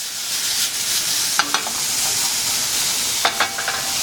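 Capers sizzle in hot frying oil for shrimp scampi, a steady close-up crackling hiss with a few brief sharper stirring clatters.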